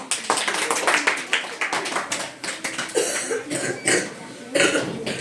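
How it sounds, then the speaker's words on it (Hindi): Scattered handclaps ring out close by in a classroom, irregular and overlapping like a small group of students clapping, with some coughs and murmurs mixed in. "और भी ज़्यादा ताली हो जाएगी।"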